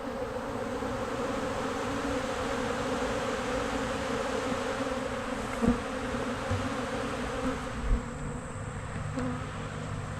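A dense, steady drone of many bees swarming a feeder, with a bald-faced hornet among them, continuous and loud throughout with a few brief closer buzzes passing by.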